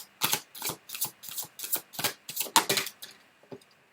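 A deck of tarot cards is shuffled by hand in a quiet room, giving a steady run of about a dozen crisp riffling bursts close to the listener, which thin out and fade near the end.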